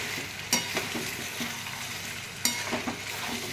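Chicken pieces fry with capsicum and tomato in a pan without any water. A steady soft sizzle runs throughout, with a couple of sharp spatula clinks and scrapes against the pan.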